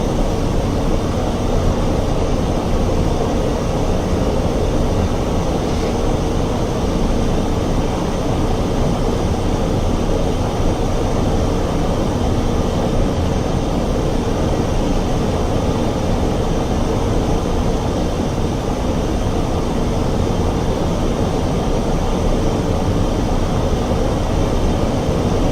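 Jet engines hum steadily at taxi power in a flight simulator, giving an unbroken broadband roar that stays at an even level throughout.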